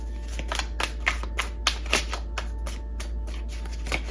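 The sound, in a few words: shuffling tarot cards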